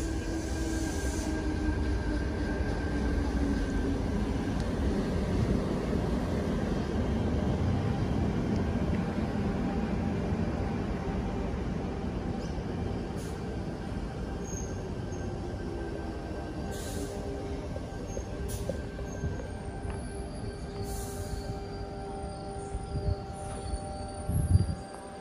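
Suburban passenger train T110 with XG33 departing platform 1 at Denistone, bound for Gordon: a steady, loud rumble of rolling wheels and traction noise throughout, with faint squeals and a slight rise near the end.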